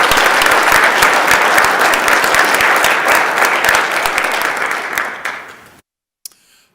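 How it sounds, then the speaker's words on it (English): A large crowd applauds steadily and loudly on a state Senate floor, the clapping tapering off and stopping near the end. "let's everybody give them an applause"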